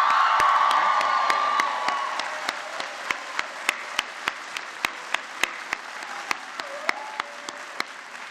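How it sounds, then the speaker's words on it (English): Graduates at a Mohawk College convocation break into a round of applause and cheering, a dense burst of clapping and whoops that thins within a couple of seconds into a few scattered, sharp individual claps continuing to the end. "so give yourselves a round of applause."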